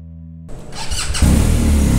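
A triple black BMW GS 1250 motorcycle engine cranks briefly, then catches and fires into a loud, close, rough idle with a quick rev.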